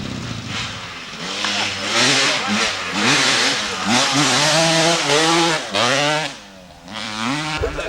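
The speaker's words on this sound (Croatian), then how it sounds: "Ajde, došao ti je s motorom." A motorcycle engine revs up and down repeatedly, rising and falling in pitch, loud and close, with brief dips between bursts.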